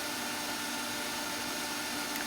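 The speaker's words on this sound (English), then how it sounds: "I'm doing it on my small end finish sander that I've rigged up" A small rigged-up end finish sander works a wooden tart shell former on a lathe setup, giving a steady, even hiss-like whir at a quiet level, with no talk.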